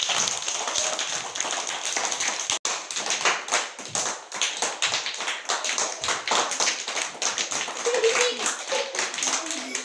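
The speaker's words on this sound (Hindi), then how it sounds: "ताली बजाओ भाई" Children clap their hands in a busy outdoor game, a dense run of sharp claps going on for the whole stretch, loud and close, with voices mixed in.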